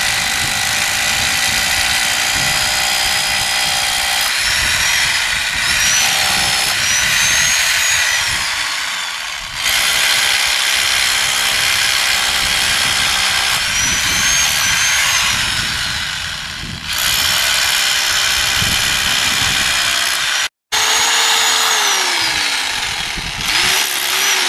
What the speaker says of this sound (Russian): у нас перфоратор есть. Берем дюбель. И приступаем. Сверло на 6 мм.